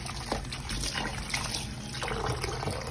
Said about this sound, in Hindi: अब इसको मैं वॉश कर लूँगी अच्छी तरह से